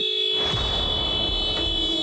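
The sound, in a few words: car horn honking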